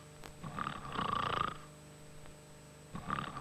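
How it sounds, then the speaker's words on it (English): A single drawn-out snore rises and fades over about a second, followed by a quieter pause and the start of another snore, steady and close against a faint background hum. "He was snoring."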